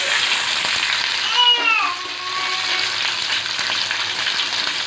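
Hot oil sizzles steadily in a pan while coconut chutney is prepared, loud and close, with a brief tonal squeal partway through.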